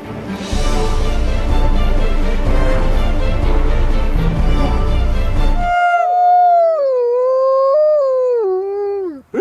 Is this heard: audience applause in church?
no